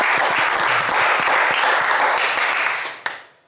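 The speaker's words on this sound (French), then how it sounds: "On va l'applaudir bien fort." A French television game show studio audience bursts into loud, dense applause that holds steady, then fades quickly near the end as a single sharp knock sounds.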